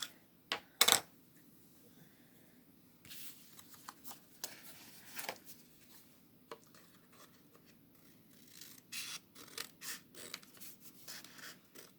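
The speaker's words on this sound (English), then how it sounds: "let me get my good scissors, and we'll cut that excess off" Scissors snip through stiff card stock in quiet, irregular cuts, with faint paper rustling between the sharper clips.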